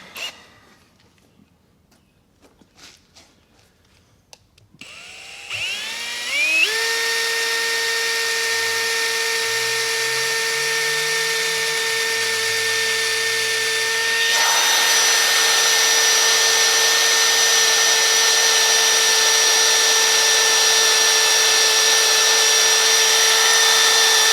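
A Matco HyperStep step drill bit boring into metal, starting after a few quiet seconds with a rising, whining motor tone and building into a loud, sustained grinding whir that grows harsher partway through.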